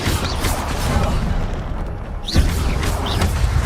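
In the video game Hogwarts Legacy, the Incendio fire spell goes off as a dense burst of booming, crackling combat effects, loud and continuous, with a sharp impact thump near the middle.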